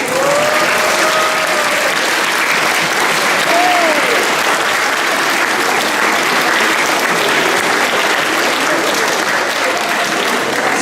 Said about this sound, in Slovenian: Sem zelo vesel, da ploskate te ljubezni,